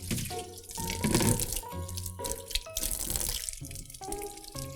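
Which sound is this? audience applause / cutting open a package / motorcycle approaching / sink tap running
sink tap running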